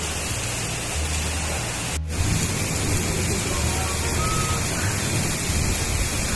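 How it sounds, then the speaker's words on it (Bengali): Heavy monsoon rain pours down outside in a continuous dense hiss, with a brief sharp click partway through and no talking. "বাইরে মুষলধারায় বৃষ্টি হচ্ছে"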